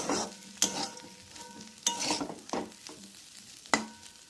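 Roasted peanuts being stirred into a potato-and-egg pitha filling in a pan, with scraping stirs at a steady rhythm over a soft sizzle, close and moderately loud.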